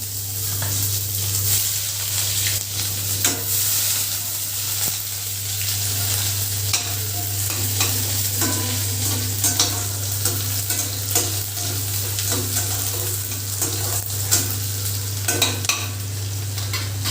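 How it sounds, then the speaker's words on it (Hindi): Cumin, garlic and onion fry in a pan and are stirred, a steady close sizzle with repeated scraping and clinks of the spoon over a constant low hum from a kitchen exhaust fan, with no talking. "सबसे पहले जीरा डाला, उसके बाद लहसुन, उसके बाद प्याज"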